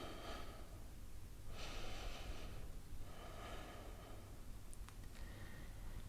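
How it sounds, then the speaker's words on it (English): Slow deep breaths during a beginner home yoga session, soft airy inhales and exhales in a calm rhythm, close but quiet, about three long breath cycles with no talking. "And just take a few breaths here."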